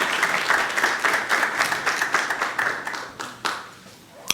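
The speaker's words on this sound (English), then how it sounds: "Maybe a round of applause." An audience at a technical workshop applauds, a crowd of hands clapping in a steady patter that thins out toward the end, leaving a few scattered claps and one last sharp clap.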